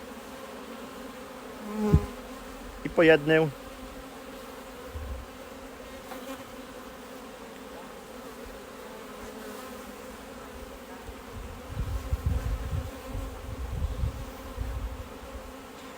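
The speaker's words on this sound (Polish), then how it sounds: "Zganiamy pszczoły." Honeybees hum steadily as they are brushed off a hive frame, a continuous low buzz broken by a few brief knocks and handling noises, with a short spoken phrase.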